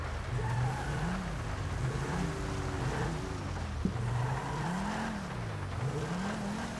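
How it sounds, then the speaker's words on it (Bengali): In GTA V, a car drives along a highway in the rain. Its engine hums at close range, rising and falling in pitch as it speeds up and eases off, over a constant low road rumble. "আমি আজকে খুবই সাবধানে গাড়ি চালাচ্ছি"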